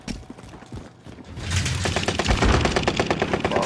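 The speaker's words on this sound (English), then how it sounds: "I'll start shooting." Rapid bursts of automatic gunfire from a video game shooter, building from sparse shots into a loud, dense rattling stream of fast repeated rounds.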